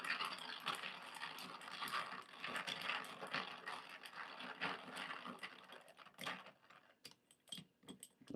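A hand coffee grinder crunches and rattles through beans for pour-over coffee. The ratcheting, gritty grinding is quiet and continuous, then thins into sparse clicks near the end.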